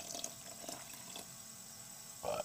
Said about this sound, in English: We're actually going to go ahead and start our rinse.